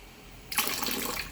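A homemade liquid floor wash being poured into a container, starting abruptly after a quiet moment as a steady, splashing stream of liquid that continues to the end, close and moderately loud with no talk.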